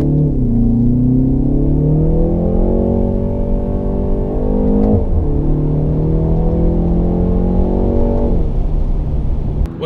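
A 2020 BMW 330i (G20) M Sport with its 4-cylinder engine in Sport Plus mode, accelerating hard: a loud, steady engine drone climbs in pitch through the gears, with a brief dip near the middle as it shifts, heard alone without talk.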